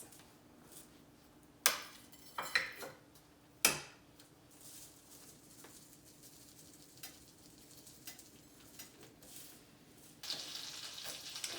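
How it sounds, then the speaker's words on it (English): Quiet, steady sizzling of oil and butter in a hot pan, broken by a few sharp clinks and scrapes of a utensil against the pan. "That oil is sizzling."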